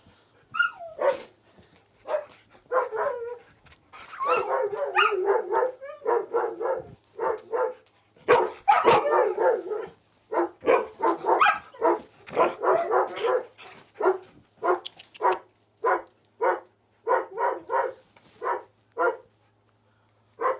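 An excited pet dog barks, yips and whines in repeated bursts close by for about twenty seconds, at an uneven, eager rhythm.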